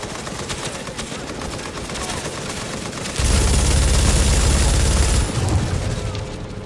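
Shotgun fire in the shooter game The Division: a loud, close burst of heavy booming blasts that swells midway and then eases off, with no talk over it.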